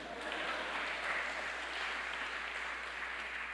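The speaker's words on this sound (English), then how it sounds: "you can applause at that" Sustained audience applause at an awards dinner, a dense, even wash of many hands clapping at steady volume throughout, with no pauses.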